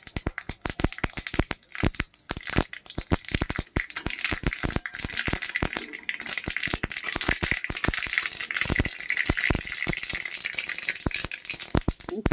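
Mustard seeds and a couple of dried red chillies splutter in hot oil, a dense, continuous rattle of rapid popping and crackling close by, with no voices.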